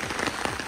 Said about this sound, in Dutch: het begint ook wel echt hard te regenen